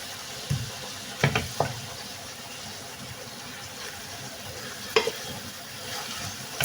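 Eggplant filling for karnıyarık sautéing in a pan, a soft steady sizzle broken by a few sharp scrapes and clicks of stirring, moderately close with no talking.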